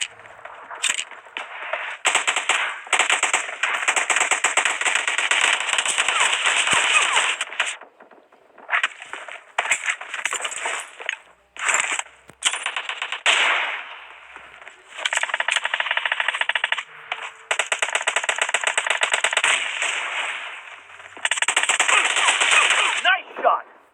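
Gunfire in PUBG Mobile during a team deathmatch with shotguns and assault rifles, dense rapid automatic bursts and sharp shots that are loud and nearly continuous, broken by brief pauses.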